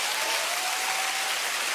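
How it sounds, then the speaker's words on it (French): Brief, dense burst of applause from a comedy show crowd, an even wash of clapping at moderate loudness with no talk. "Par applaudissement."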